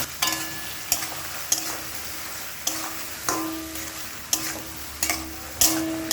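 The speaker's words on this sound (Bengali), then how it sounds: "কচুরলতিটা ভাজতে থাকবো তিন থেকে চার মিনিট" Taro stolons fry with turmeric in a pan, giving a quiet sizzle broken by sharp spatula taps and scrapes that land roughly every second.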